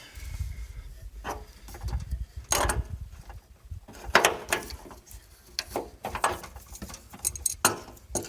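A wrench loosens the bolts on the fuel tank straps of a square body Suburban, giving irregular close ratcheting clicks and metallic scrapes in short bursts with pauses between.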